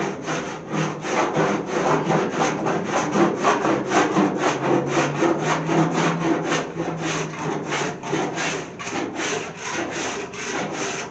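Body filler on a 1929 Chrysler trunk is sanded by hand with sandpaper. Fast, even back-and-forth rasping strokes repeat close and loud, in a steady rhythm for the whole stretch, with no talking.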